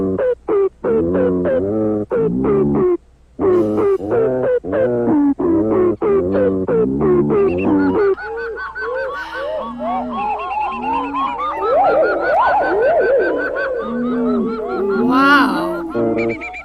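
Varied bird calls in a 1960 song recording, with honking, goose-like squawks and chattering cries, start as a rhythmic series of loud calls and then become a dense overlapping chorus of warbles and whoops.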